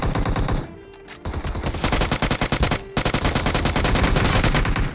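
Rapid automatic Bizon submachine gun fire in the mobile game PUBG Mobile, loud and close: dense bursts of shots, a short pause near the start, then sustained fire with one more brief break.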